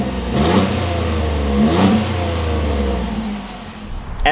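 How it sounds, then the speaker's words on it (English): A 2021 Chevrolet Colorado V6 engine revs twice through a deep, rumbling Gibson exhaust, rising and falling, then settles into a steady idle. "let's take a quick listen to this V6"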